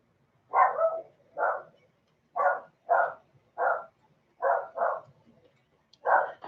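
A dog barks repeatedly indoors, about nine sharp, close barks coming singly and in pairs with short pauses, no voices present.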